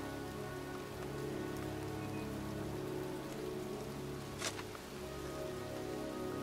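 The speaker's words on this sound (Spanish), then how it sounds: "Llueve y a la intemperie estoy empapado." Steady, dense rain falls and patters on surfaces in the video game Heavy Rain, an even outdoor downpour with no voices and only a single brief sharp knock partway through.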